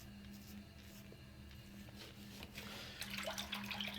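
Tap water running steadily into a sink for rinsing a face after a shave, a low continuous splash that grows slightly louder and brighter toward the end.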